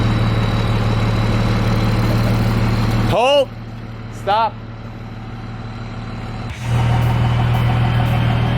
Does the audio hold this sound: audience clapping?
no